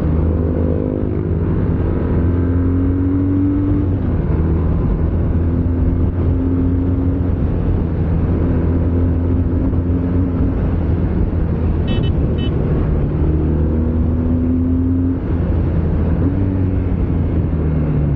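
BMW R12 nineT motorcycle pulling hard in traffic, its engine note climbing and dropping through several gear changes with steady wind and road roar, close and continuous.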